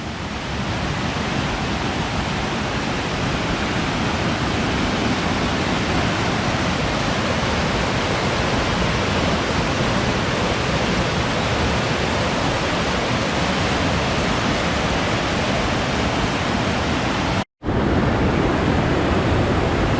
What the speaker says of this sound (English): Recent rains had swollen the river. It was quite an impressive sight and sound.